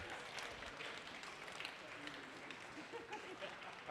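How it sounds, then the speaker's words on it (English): A small group claps in a round of applause for graduates at a gamedev meeting, a faint, steady patter of hands lasting a few seconds. "Let's just have a round of applause for graduating."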